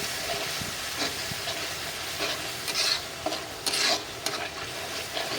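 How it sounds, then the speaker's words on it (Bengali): Spice masala with cumin and turmeric powder stirred and fried in a pan for a fish curry, steady close sizzling broken by repeated scraping stirs and a few louder hissing bursts. "মশলাটা ভালোভাবে কষিয়ে নেবো"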